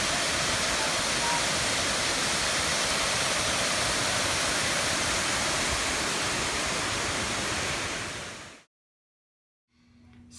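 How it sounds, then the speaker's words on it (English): A waterfall roars as a dense, loud, unbroken wash of falling water for about eight seconds, then cuts off abruptly into near silence. "We make it to the waterfall."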